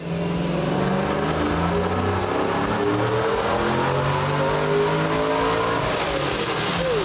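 A Trailblazer SS engine fitted with a Terminator X kit screams loud and steady on a dyno, holding near-full revs for the whole stretch as its pitch climbs higher toward the end.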